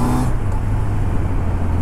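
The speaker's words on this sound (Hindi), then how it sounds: "आ चुके अभी अपन एकदम फुल टू ट्रैफिक वाले रास्ते में" Heavy street traffic rumbles continuously around a rider on a Kawasaki Z900, a loud, steady low engine drone with passing vehicles and no speech.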